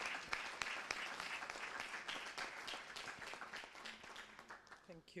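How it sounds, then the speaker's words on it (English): A conference audience at an energy efficiency and electric mobility event breaks into sustained applause, with dense clapping throughout and a voice briefly emerging near the end. "Round of applause to her"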